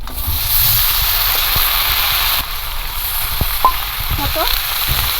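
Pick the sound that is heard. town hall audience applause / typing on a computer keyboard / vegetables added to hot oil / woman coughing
vegetables added to hot oil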